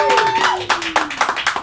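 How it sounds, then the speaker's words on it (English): A comedy show audience clapping, a short burst of loud, uneven hand claps heard close by. "I'm gonna need all of y'all invisible people out here to clap real loud for him"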